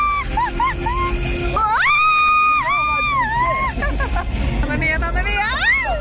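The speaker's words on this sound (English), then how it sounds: "please excuse the screaming" Excited shrieks and screams from a crowd watching a bird flight show as large birds swoop close overhead, loud, high-pitched and overlapping, with brief rising squeals over a constant murmur of chatter.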